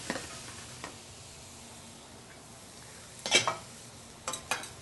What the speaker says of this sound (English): And we still have a sizzle.